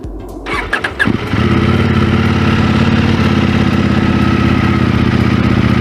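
A 2023 CFmoto 800NK motorcycle cranks and fires up, then settles into a steady, loud, close idle with an even throbbing rhythm.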